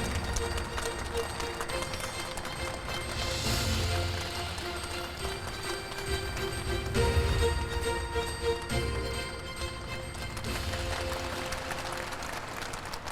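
An audience at a ceremony in Gunsan claps, and the sustained applause runs the whole time under a low, continuous murmur of voices.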